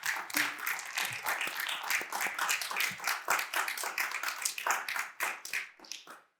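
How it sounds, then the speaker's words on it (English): Scattered applause from a panel event audience, individual claps distinct and fairly close, tapering off toward the end. "let's give a round of applause for our panelists"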